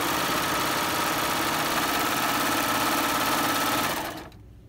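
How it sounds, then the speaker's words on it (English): A 4-thread overlock serger stitches a seam on a pair of shorts with a fast, even mechanical whir and buzzing motor hum, running continuously and close before winding down at the end. "So let's go ahead and serge."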